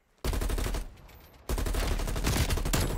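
Rapid automatic gunfire in Call of Duty Cold War, a 4v4 match: a dense, loud burst of shots, a short lull of quieter fire, then another sustained volley running to the end.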